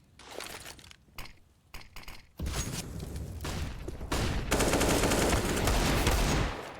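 Gunfire in the tactical shooter CS:GO on the Inferno map during a professional esports match: scattered shots, then sustained rapid automatic fire, loud and dense, with glassy clinks mixed in.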